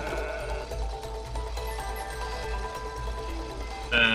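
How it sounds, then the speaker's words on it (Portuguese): A sheep in the video game It Takes Two gives bleats over a steady low game soundscape, and a louder bleat cuts in sharply at the very end. "Ovelha."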